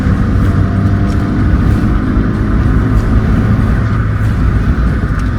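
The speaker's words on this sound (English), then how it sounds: "that is pre-exhaust, so you know it sounds pretty good for a little Civic" A small Honda Civic with a cold air intake and its original exhaust, before a catback system is fitted, runs with a loud, steady, close-up engine drone that holds evenly throughout with no voices.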